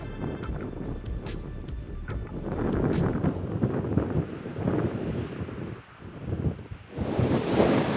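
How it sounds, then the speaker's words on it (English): Strong December wind batters the microphone on a bow-hunting outing, a loud, rumbling buffet that surges and dips continuously, with brief clicky bits near the start and no clear speech. "Brutal wind."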